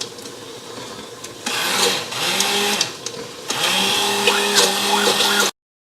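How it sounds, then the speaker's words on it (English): A small handheld immersion blender whirs through creamed Indian-style spinach, its motor starting after a quiet moment and running in two loud bursts with a brief dip and shifting pitch before cutting off abruptly. "So this is one of those little hand blenders"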